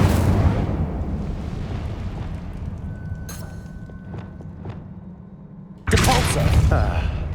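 Incendio fire spell cast in Hogwarts Legacy on PS5: a loud roaring blast of magical flame over a rumbling bed, a few brief bright chimes in between, then a second sudden burst of fire near the end.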